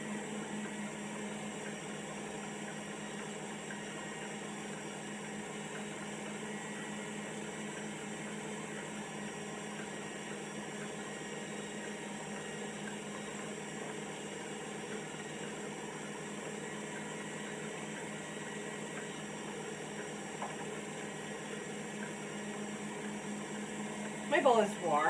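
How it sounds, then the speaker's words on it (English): An electric stand mixer whips Swiss meringue in a warm bowl, giving a steady, even whir and whine that holds for a long stretch at a constant moderate level, with a faint clatter near the end. "Preferably a stand mixer. Okay, I'm increasing the speed a little bit."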